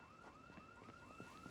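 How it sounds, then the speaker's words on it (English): A car alarm in a video game, heard faint and distant, its repeating wailing tone rising and falling in quick regular cycles over a soft background. "car alarm, it sounds like"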